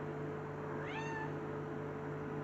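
A single short kitten meow rises and falls once at moderate distance, faint against a quiet indoor background with a low steady hum and no talking.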